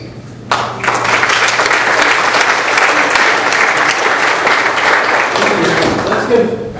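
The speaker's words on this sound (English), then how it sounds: "Let's give, again, a warm welcome applause for all of our candidates" Sustained applause from a seated audience at a chamber of commerce district candidate forum, starting abruptly and holding steady and fairly loud for several seconds with no talk over it.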